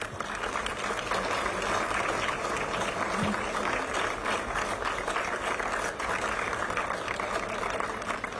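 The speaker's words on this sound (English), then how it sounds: "Let us applaud this eventful moment" Sustained audience applause fills a hall at a foundation stone laying ceremony in Meghalaya, a steady dense clapping texture with no speech over it.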